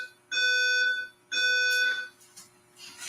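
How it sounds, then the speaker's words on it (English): A courtroom fire alarm sounds in two long, loud electronic tonal blasts with a pause between them, followed by fainter trailing noise. "Damn, they got a whole fire alarm."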